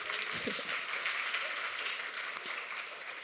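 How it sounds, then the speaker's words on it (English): An audience at a youth technology and innovation event claps continuously for about three seconds, a dense, even patter of hands from a room full of people with no voices over it. "Clap for yourselves."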